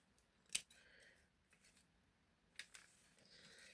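Scissors snip through a glossy magazine clipping, one sharp close cut followed by a second quieter snip, with light paper rustling in a quiet room.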